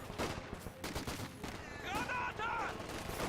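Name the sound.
gunfire in Company of Heroes 2 video game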